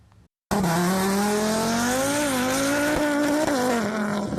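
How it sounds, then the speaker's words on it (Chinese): After a moment of near silence, a drag race car's engine erupts into a loud, sustained roar as it launches, its pitch rising and wavering as it accelerates hard down a 100-metre run. "油门一打落，随冲出去，引擎声真大声"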